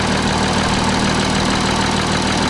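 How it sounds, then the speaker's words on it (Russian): A 2016 Audi A6 engine idling roughly, a loud, steady mechanical drone with a low rumble and faint knocking texture, close up and unbroken, with no talking. "И мотор, слышу, он ну, неправильно работает, плохо он работает."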